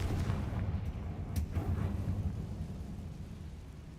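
In a Harry Potter video game, a Confringo spell bursts into a dense, rumbling explosion that rolls on for several seconds at a steady roar.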